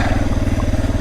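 A stock Suzuki DR650 motorcycle rides off-road in first gear with a passenger, its single-cylinder engine pulsing in a steady, loud, close throb.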